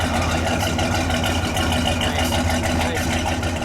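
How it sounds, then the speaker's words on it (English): A 1970 Buick GSX V8 idling with a steady, loud exhaust rumble and a faint lopey cam pulse, continuous throughout with no talking over it. "Let's listen to the exhaust note here."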